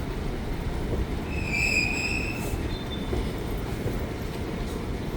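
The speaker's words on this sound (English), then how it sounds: "And of course the O-Train is the light metro, I guess you can call it, of Ottawa." Ottawa's O-Train light metro in the downtown core, heard as a steady loud rumble of rolling rail cars with a thin high wheel squeal rising briefly in the middle, no voices.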